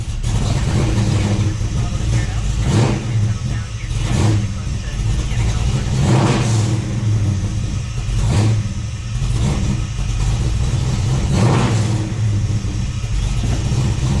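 A Ford Falcon XB GS being restored and tuned revs up and falls back through several throttle blips over a steady rumbling idle, loud and close, with a voice briefly heard.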